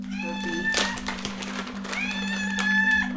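A pet cat meows close by, giving a short call and then a longer drawn-out one, over a steady low hum with a few faint taps.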